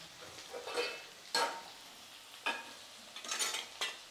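Spices tempering in hot oil in a pan for small onion sambar, giving a sizzling crackle with several sharp bursts of spattering over a steady frying hiss.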